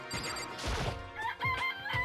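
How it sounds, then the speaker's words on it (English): A video game chicken in Danganronpa Trigger Happy Havoc sounds off, a loud crowing squawk followed by a series of short, sharp clucks in quick succession, with no talking over it. "It's a chicken. It's alive, right?"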